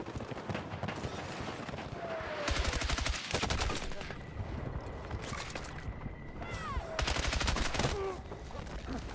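Gunfire in the video game Battlefield 6: bursts of rapid automatic shots cluster in several volleys, mixed with distant battle noise and whistling effects, moderately loud with no talk over it.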